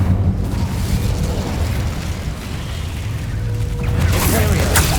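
A fire spell in Hogwarts Legacy erupts with a loud roaring burst and sustained crackling whoosh, backed by dense battle effects and a sharp flare near the end.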